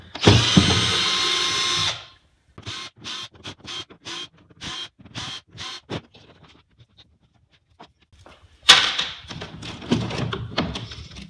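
A power drill backs screws out of a square hatch on a 2016 Hobie Outback kayak: a long steady whir, then about ten short stop-start bursts, a pause, and another longer run near and loud.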